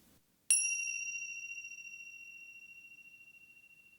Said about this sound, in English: let's tune into the sound of the bell and follow it all the way until the sound